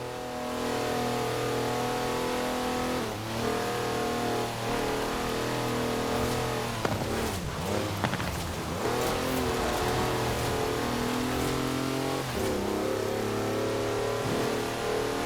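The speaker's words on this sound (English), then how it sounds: "That's a four-wheel drive car on mud tyres, completely sideways." A four-wheel drive car on mud tyres drifting sideways in Forza Horizon 4, its engine droning and revving steadily with tyre scrub and spattering noise over a long, loud stretch.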